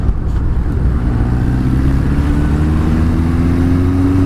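A Suzuki GS1000 motorcycle engine runs steadily up close, a loud continuous rumble with a low throbbing tone that rises slightly in pitch as it revs.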